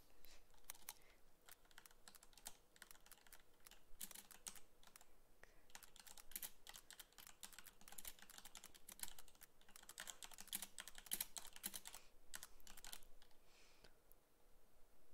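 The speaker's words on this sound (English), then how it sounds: "typing with nails is hard" Fingernails tapping a computer keyboard during a League of Legends match, a long run of rapid, light, clattering key clicks, fairly close and steady, with brief pauses and no voices.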